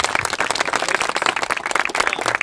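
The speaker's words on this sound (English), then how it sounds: "Round of applause, everyone." Dense applause from an audience at an awards ceremony, steady continuous clapping at moderate loudness throughout.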